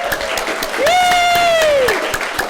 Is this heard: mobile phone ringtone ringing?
no